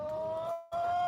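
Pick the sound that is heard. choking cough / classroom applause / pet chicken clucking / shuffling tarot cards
pet chicken clucking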